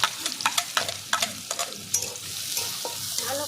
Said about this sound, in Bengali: এবার ফোড়নে দেবো কালো জিরে, একটা পেঁয়াজ কুচি।